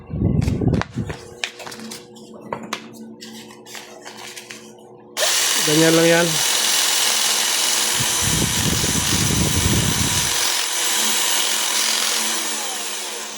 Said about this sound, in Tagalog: Gamitan natin ang 800 na liha guys.